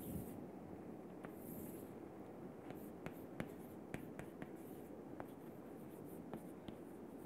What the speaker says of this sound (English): let me write it over here